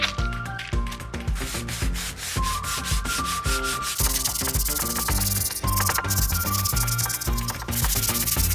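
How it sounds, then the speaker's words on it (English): Wooden furniture being sanded by hand, with a steady, continuous abrasive rubbing of sandpaper on wood, close and loud, with rapid back-and-forth strokes and no talk. "it was a lot of hand sanding"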